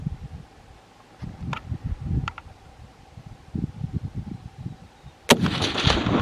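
One loud rifle shot cracks out near the end during a fallow deer hunt in Whanganui, following quieter rustling and low outdoor rumble.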